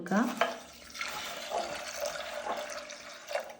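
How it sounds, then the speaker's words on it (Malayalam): Water poured over soaked dal in a pressure cooker makes a steady, gentle splashing and trickling, moderately close, with a brief voice near the start. "കുറച്ച് വെള്ളം ഒഴിച്ചു"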